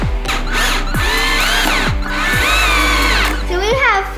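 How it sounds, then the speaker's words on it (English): Power drill boring pilot holes into wood for a bike jump ramp, repeated short revving whines rising and falling in quick bursts, loud and close. "We drilled some pilot holes to make it easier to screw the pieces together."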